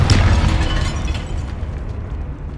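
A Confringo blasting spell in Hogwarts Legacy detonates among catacomb bones, opening with a loud, close burst that rumbles and decays over a couple of seconds.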